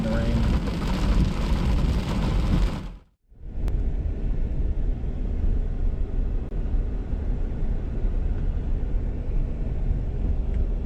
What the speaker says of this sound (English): I haven't seen this much rain since summer started.